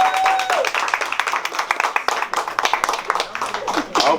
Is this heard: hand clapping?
yes